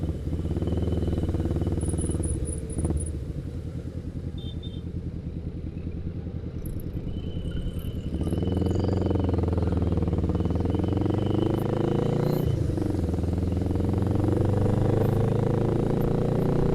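A Honda Rebel 500 motorcycle with an engine based on the Honda CB 500 series, riding with a steady low engine drone, wind noise and occasional shifts in pitch as it accelerates.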